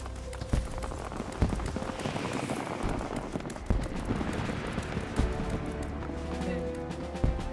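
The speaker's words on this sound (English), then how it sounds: "Yeah, I hear fireworks, I just don't see fireworks." Fireworks going off in Final Fantasy XIV, a run of scattered pops and crackles over a busy bed of game noise, some bursts sharper and louder than others.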